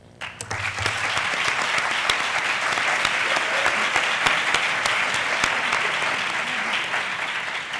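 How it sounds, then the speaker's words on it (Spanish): Loud, sustained applause from a conference audience, steady clapping filling the whole stretch after a brief quieter start. "yo creo que le podemos brindar un fuerte aplauso."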